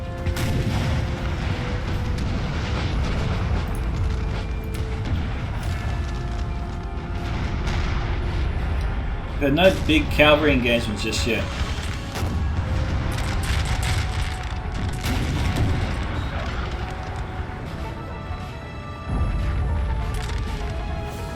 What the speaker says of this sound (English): It will be if those cannons keep shredding those units like this.